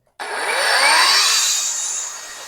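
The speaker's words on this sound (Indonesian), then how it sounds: "Sekarang kita coba ukur berapa RPM, no load speed dari perputaran blade-nya." A TOTAL TSLI14021 cordless mini circular saw spins up at no load, a loud, close, high whining whir that rises sharply and then holds steady with no voices.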